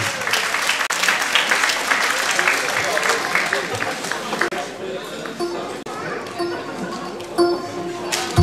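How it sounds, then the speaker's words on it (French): An audience at a singing contest applauds a contestant, a dense wash of clapping that thins out and fades toward the end, with chatter and voices mixed in. "La candidate numéro 2 qu'on encourage, qu'on applaudit"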